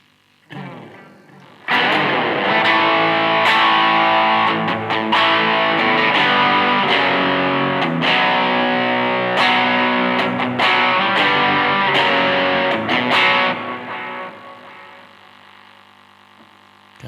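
An electric guitar through a Boss overdrive/distortion pedal rings out loud, crunchy chords and sustained notes after a quiet start, then fades near the end; no voices.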